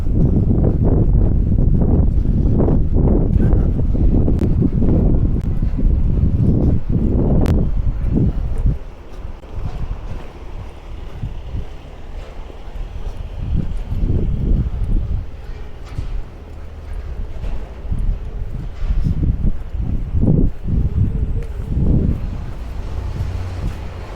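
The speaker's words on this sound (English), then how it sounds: "Ooh, it's cold and windy. Gotta get out of this alleyway. The wind is just shooting through here." Cold wind gusting through an alleyway in Copenhagen: loud, blustery buffeting strikes the microphone hard for the first few seconds, then settles into a lower, uneven rushing with scattered thumps and rustles.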